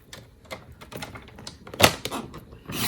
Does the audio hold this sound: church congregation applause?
no